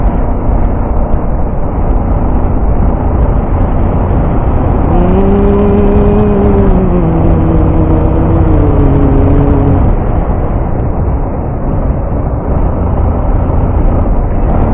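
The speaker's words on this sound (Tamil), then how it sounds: "என்னதான் ஆக்சிலேட்டர் கொடுத்தாலும் ஐம்பது அறுபதுக்கு மேலே வண்டி மேலே இழுக்க மாட்டேங்குங்க" A luggage-laden motorcycle on the road to Munnar drones steadily under strain, its engine note rising and settling in a continuous loud hum mixed with wind rush, no voices heard.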